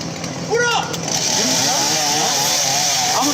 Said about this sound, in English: You got a chainsaw.